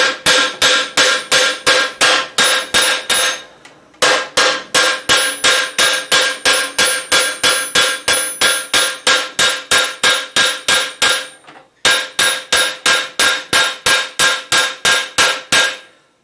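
A polished-face hammer strikes along the metal edge of an armour greave in a steady, rapid series of sharp ringing blows, loud and close, with two brief pauses between runs.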